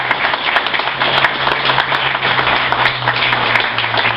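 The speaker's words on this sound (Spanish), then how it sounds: "yo quiero un aplauso que se oiga fuerte," Loud, sustained applause from an assembly crowd at a business association meeting, a dense steady wash of clapping filling the whole stretch with a low hum underneath.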